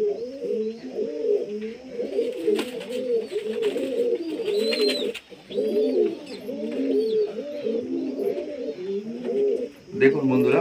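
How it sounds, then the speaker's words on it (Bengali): Several pet pigeons coo continuously at close range, their soft rolling calls overlapping in a steady chorus with brief pauses, punctuated by a short thump near the end. "পায়রাগুলো কেমন হয়েছে দেখুন আপনারাও।"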